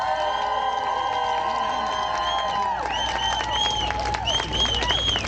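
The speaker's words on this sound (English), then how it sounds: "Please, round of applause to our president." Crowd at a Stand for Ukraine rally in New York cheering and clapping, with whoops and shouts over a steady wash of applause, while a voice carries over a loudspeaker above the crowd.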